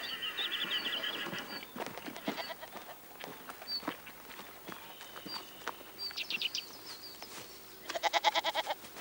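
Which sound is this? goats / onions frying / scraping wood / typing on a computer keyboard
goats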